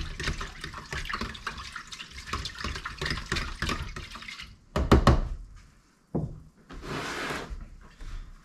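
Water poured straight into a bowl of carp boilie bait dough mix, a steady splashing pour followed by a few thunks and a short second stream.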